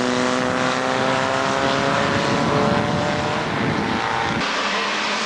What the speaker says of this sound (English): Cars coming out now for the last race of today